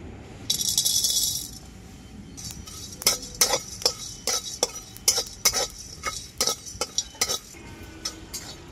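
Whole spices roast in a dry kadai: cinnamon, cardamom, cloves, mace, nutmeg, cumin, coriander seeds and black peppercorns. A spatula clatters in quick, sharp metallic scrapes and taps, close and loud, after an early burst of rattling.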